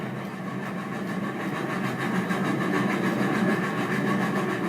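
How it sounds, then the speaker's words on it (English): LNER 60163 Tornado, a steam locomotive running at speed, gives a steady, loud rhythmic exhaust over continuous rumbling running noise, with no voices. "Tornado's staccato exhaust beats reverberate across the city."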